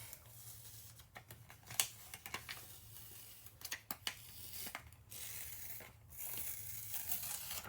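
Heat transfer vinyl carrier sheet peeled off a freshly pressed iron-on layer from a Cricut EasyPress 2, heard as a quiet stretch of soft crinkles, tearing rustles and brief clicks over a low steady hum, with no talking.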